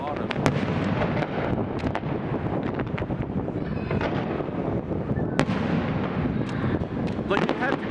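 Loyalist Day fireworks in Saint John, New Brunswick burst continuously with sharp cracks and booming thumps over a dense crackling roar, while people talk nearby throughout.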